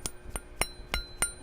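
Fingernail flicks against a hollow silverware handle give five sharp, bright metallic pings at an even pace, close and fairly quiet, each with a short ringing tail, no voices.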